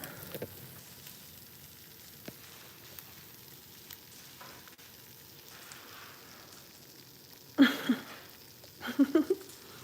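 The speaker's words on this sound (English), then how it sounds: "Eggs are frying." Eggs frying in a pan in a home kitchen, a faint steady sizzle under low background noise, with a couple of louder crackling bursts near the end.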